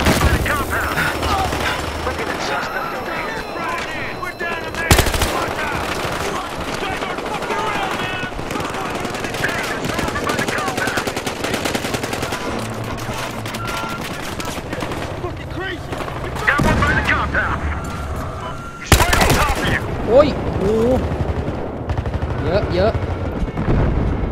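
Gunfire in the video game Battlefield Hardline, bursts of shots and booms recurring throughout, with two sharp loud blasts standing out, mixed under game noise and ongoing talk.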